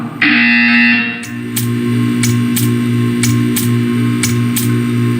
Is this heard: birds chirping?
no